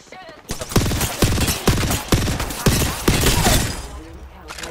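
Gunfire in Apex Legends: a rapid string of loud, close gunshot bursts in a steady rhythm, with game effects and a voice heard underneath.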